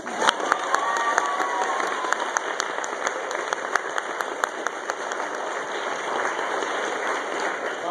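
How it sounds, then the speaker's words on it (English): Drama summer school students at a high school arts program orientation clap and cheer together, a dense crowd roar with scattered sharp claps and shouts that holds steadily throughout. "Okay, now you can clap."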